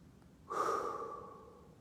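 A single deep breath during a post-workout mobility stretch, a soft airy inhale or exhale lasting just over a second, close and fairly quiet over faint background hiss, with no talk.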